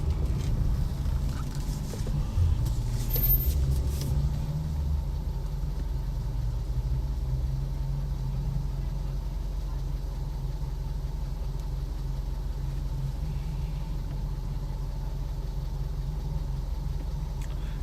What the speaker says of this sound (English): You hear the car in front of us.